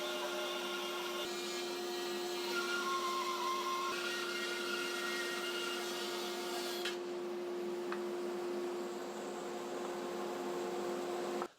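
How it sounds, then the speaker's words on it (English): A woodworking bandsaw resaws a wood piece in half with a steady, continuous motor hum and cutting drone that holds at an even, moderate level throughout. "I'm going to set my bandsaw to a 1/2 inch. And hopefully we can resaw this piece nicely in half."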